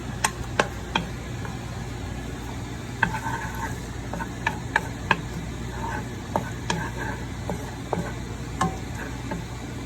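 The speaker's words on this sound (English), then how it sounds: "cook it until it's golden brown, the garlic" Chopped garlic frying in oil in a pan for Vietnamese sour soup, a steady close sizzle with scattered sharp pops and ticks throughout, no talking.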